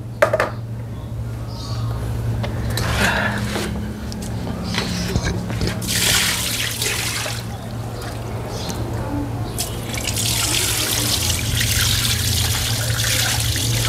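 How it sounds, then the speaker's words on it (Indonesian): Water drains and pours from a container of corn kernels during rinsing, a steady trickling and splashing with wet squishes of the kernels, beneath a low steady hum and people talking. "Kita buang sampahnya. Nah, baru kita buang airnya bang."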